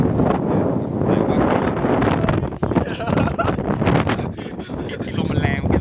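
Strong wind buffets the microphone at a Ranong viewpoint, producing a continuous rumbling roar with gusty surges, while people talk under it.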